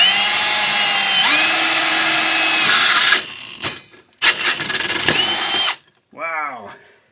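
A power drill fitted with a stepped-point bit bores through a curved surface, its motor whining loud and close in long sustained runs, then stopping and restarting in shorter bursts before a final brief rising spin-up.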